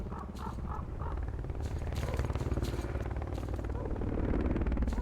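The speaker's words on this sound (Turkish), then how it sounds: "Seni lanet helikopter neredesin? Tepemde manevra yapıyor." A helicopter hovers overhead in the video game S.T.A.L.K.E.R., a loud continuous rotor chop pulsing steadily throughout with other game sounds layered on top.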